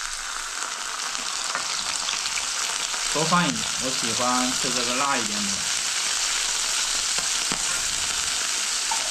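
Chopped chili sauce with garlic paste sizzles and spits steadily in hot oil in a home kitchen pan, a continuous close frying hiss with a voice talking over it partway through.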